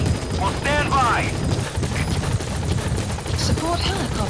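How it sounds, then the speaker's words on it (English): Support helicopter arriving at a landing zone in Metal Gear Solid 5, a continuous rotor drone under a loud, busy mix with radio voices and brief bursts over it. "Support helicopter has arrived."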